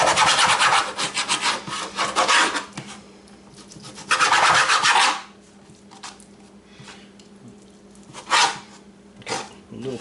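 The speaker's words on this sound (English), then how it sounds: "I want to cut that up" A knife slices steak into strips on a cutting board, giving rough sawing and rubbing strokes in several loud bursts separated by quieter pauses, with faint background hum.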